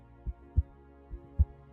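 Heartbeat sound effect: two low, thudding lub-dub pairs, each a soft beat followed closely by a stronger one, steady and close with a faint hum between beats and no other sounds.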